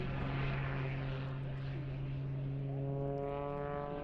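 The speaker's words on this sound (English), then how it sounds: "I don't know what kind of plane this is." A small propeller plane at the Miramar air show flies past with a steady droning engine hum that holds throughout, shifting slightly in pitch near the end, fairly distant and moderately loud.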